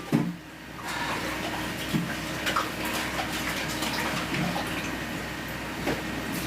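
Cold water runs steadily from a kitchen tap while food is prepared, a continuous rushing hiss with occasional soft knocks and clatters, fairly close and with no talking.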